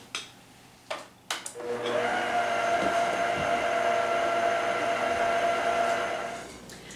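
An electric stand mixer hums on low speed, working flour into gingerbread cookie dough; a few knocks come first, then a steady, fairly loud motor drone runs alone for several seconds before easing off.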